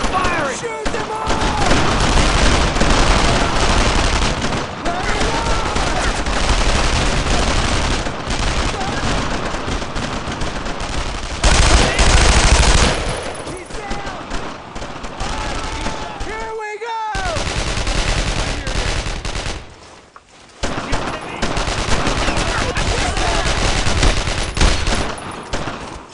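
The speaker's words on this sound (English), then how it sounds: "Cover and fire! Keep it up! Pressure's on!" Rapid gunfire and machine-gun bursts fill a World War II battle in the video game Brothers in Arms: Road to Hill 30, loud and nearly continuous with brief lulls, while soldiers shout orders over the shooting.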